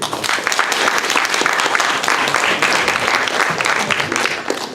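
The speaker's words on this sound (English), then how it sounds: "Just a round of applause real quick for them." A roomful of college students at a Penn State debate event applauds, with loud, close, crowded clapping that stays at a steady level throughout and a few individual claps standing out from the mass.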